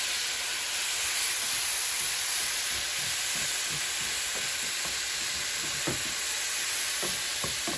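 Ground beef sizzles loudly in a skillet on an overly hot stove, a dense continuous hiss with scattered crackles and pops, close and steady with no talk.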